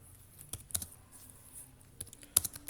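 Sparse, irregular keystrokes on a computer keyboard while Java code is typed, a handful of crisp clicks spread over a few seconds, close and fairly quiet, with no voice.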